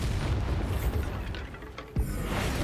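A Bombarda spell explodes in the Hogwarts Legacy game, a sudden low boom near the end that lifts out of steady broadband rumble and debris noise.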